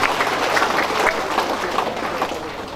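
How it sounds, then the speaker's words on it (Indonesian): A crowd claps in lively, sustained applause, dense and even throughout, tapering slightly toward the end with no talk over it. "Mari kita tepuk tangan yang meriah untuk mereka semua."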